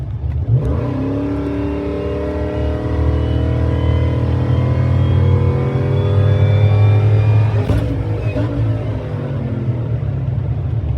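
Truck engine with about 200,000 miles held at full throttle, a loud continuous roar that climbs steadily in pitch as it revs through the gears, with a brief shift partway through.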